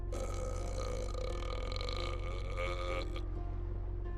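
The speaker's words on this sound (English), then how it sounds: "The captain burps audibly." A ship's captain lets out a long, loud, drawn-out burp, close and resonant, lasting several seconds before trailing off over a constant low hum.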